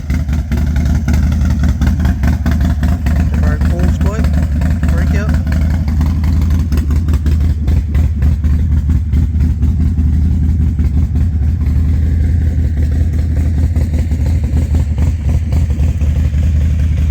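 Several motorcycles idle together outdoors, one fitted with header modifications, producing a loud, steady, continuous engine rumble throughout with no clear revs.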